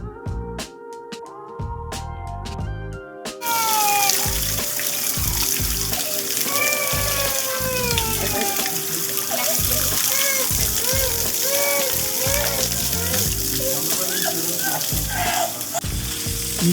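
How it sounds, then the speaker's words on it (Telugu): A natural stream of water flows steadily at Simhachalam temple, a continuous broadband wash that begins after a brief quieter opening, with voices and bustle mixed in. "మీకు ఇక్కడ కనిపిస్తుంది కదా ఈ వాటర్ ఫ్లో, ఇది కొన్ని శతాబ్దాల నుంచి వస్తుంది అనమాట"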